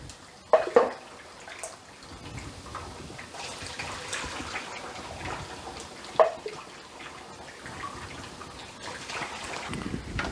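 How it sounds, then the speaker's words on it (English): Apple juice pours steadily from a measuring cup with a soft splashing trickle, a couple of brief clinks of a cup near the start and middle. "So I'm going to be pouring this in."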